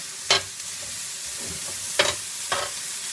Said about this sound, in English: Toss them around a little bit, because the grill is nice and hot.